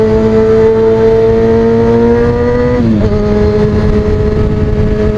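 A car passing fast on the right, its engine a high, bee-like buzzing drone that holds steady, then drops sharply in pitch as it goes by, loud and close.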